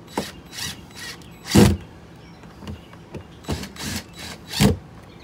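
Mechanical clicks and creaks come from a deadbolt lock unit being tightened down on an RV entry door, a handful of short, close, fairly quiet bursts spaced irregularly with no talking.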